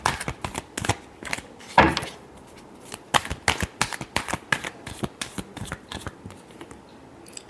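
Tarot cards are shuffled by hand in a string of crisp, close riffling taps and flicks that come in uneven bursts, with short pauses between them and no talking.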